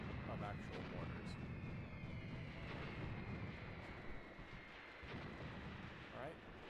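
Volley of mortar fire in the war game Graviteam Tactics Mius-Front, a dense continuous rumble of booms and distant impacts blended together, faint and muffled throughout.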